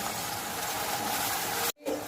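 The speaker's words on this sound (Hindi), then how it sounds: "थोड़ा सा पानी डाल रही हूँ।" Water pours steadily into a cooking pan during a chickpea curry, a broad continuous splashing wash that cuts off sharply near the end, followed by a faint sizzle.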